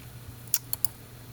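Three sharp clicks from a computer mouse, close and faint, spaced unevenly over a quiet room with a low steady hum and no talk.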